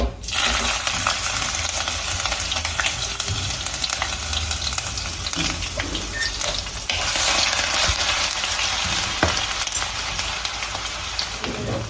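Ginger is added to hot coconut oil with popped mustard seeds, setting off a loud, steady sizzle close by, with scattered small pops and spoon clinks and no voices.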